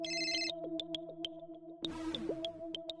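A phone rings with a bright electronic ringtone, repeating short tonal pulses at a steady rhythm over a quiet musical backdrop, fairly faint throughout.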